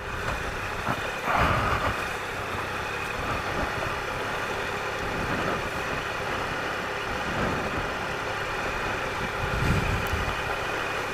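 Triumph Explorer motorcycle engine at very low revs on a byway, a low, steady rumble close by with a few brief louder surges, no talk over it.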